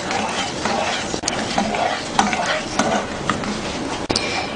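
A spoon stirs melting sugar and butter in a hot pan for peanut candy, with steady bubbling sizzle under repeated scraping strokes and occasional sharp clicks of utensil on metal.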